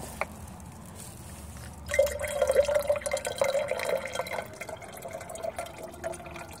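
Filtered water pours from a filtration system into a container, a steady gurgling, splashing fill that starts after a brief pause, swells, then eases slightly as it continues, close by and alone.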